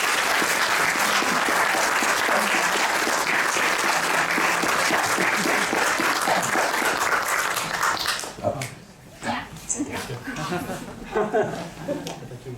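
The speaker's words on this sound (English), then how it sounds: "so please give them the next round of applause" Loud, dense audience applause greets panelists coming onstage at a cross-cultural cuisine event, then thins out and gives way to people talking nearby.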